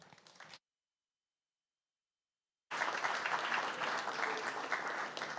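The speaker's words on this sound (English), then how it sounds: "Please applause." Audience applause at a high-level clean energy partnership event, a brief burst that cuts to silence, then a full, steady round of many hands clapping resumes loudly and continues to the end.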